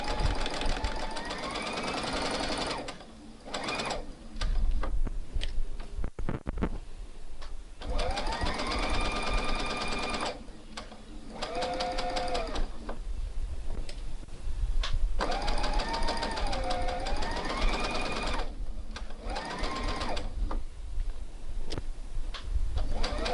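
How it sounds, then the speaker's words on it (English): A sewing machine stitches a seam with a 1.5 centimeter allowance on a New Look 6575 garment, running in loud rapid whirring bursts separated by short pauses, close by and with no speech. "We're actually stitching all the way for this part."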